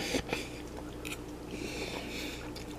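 Close-up biting and chewing of air-fried Braunschweiger liver sausage, a couple of soft bites followed by quiet, moist chewing, with no talking.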